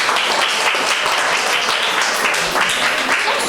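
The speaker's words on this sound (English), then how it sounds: "I present to you the students of Point Forte Anglican School. Give them a round of applause." Dense, steady audience applause fills the hall for the students of Point Fortin Anglican School at a mental health seminar, loud and continuous throughout with a faint voice or two underneath.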